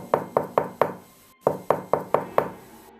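Two quick sets of four sharp knocks rap on a door from outside, loud and close, with a brief pause between the groups.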